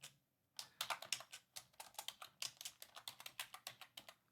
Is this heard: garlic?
no